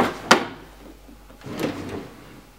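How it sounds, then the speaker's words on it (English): Drawers of a used furniture piece sliding open and shut, a sharp knock followed by a softer wooden sliding rub, close by and alone. "Drawers open just fine."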